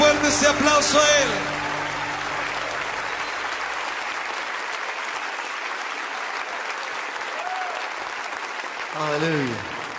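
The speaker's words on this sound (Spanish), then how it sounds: "Dale fuerte ese aplauso a Él." A church congregation bursts into sustained applause during worship, a steady dense wash of clapping that carries on for most of the stretch, with a voice speaking over the opening moments and again near the end.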